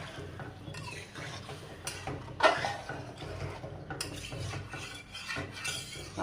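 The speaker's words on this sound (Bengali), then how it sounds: "এবার আমি ঝোলের পানি দিয়ে দেবো।" Water is poured into a pan of cooked-down tomatoes and spices to make gravy for a bata fish curry, then stirred, with close scraping and clinking of a spoon against the pan over a soft liquid wash.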